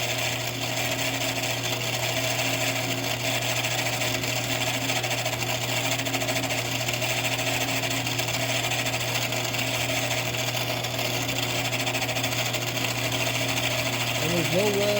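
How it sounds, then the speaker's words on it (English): A steady, continuous motorized drilling drone with a constant hum runs throughout, close and fairly loud, with no pauses, as a drill bores into a metal motor shaft. "I'm just going to continue to drill this"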